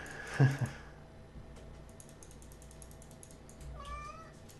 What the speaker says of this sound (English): My cat's telling me it's bedtime.